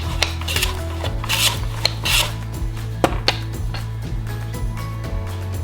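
A mandolin slicer cuts vegetables into thick slices in a kitchen, making rhythmic rubbing and scraping strokes that repeat about every half second, close by, with no talking.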